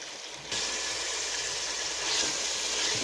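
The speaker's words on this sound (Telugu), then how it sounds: "ఇది పచ్చివాసన పోయే వరకు వేయించాలండి" Fresh-pounded ginger garlic paste, about three spoonfuls, sizzling in hot oil in a pan for a Guntur Muslim-style chicken biryani, a steady broadband frying hiss that swells after a brief quieter start, with no talking.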